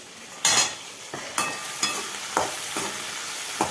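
Brinjal stir-frying in a pan gives a soft background sizzle cut by several sharp spatula knocks and scrapes against the pan, spaced irregularly, with no voices.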